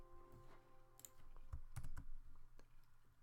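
A computer keyboard being typed on as the Alt and A keys are pressed, giving a few quiet, close clicks in a short cluster with no talk.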